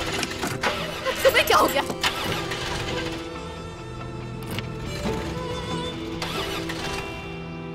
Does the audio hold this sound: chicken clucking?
no